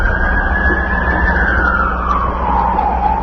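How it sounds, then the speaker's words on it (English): An emergency vehicle siren wails loud and close amid a city street during the September 11, 2001 attacks, one long rising-and-falling tone over steady traffic rumble. "That siren is our world."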